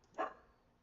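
A single short, faint dog bark in a quiet room, brief and somewhat distant.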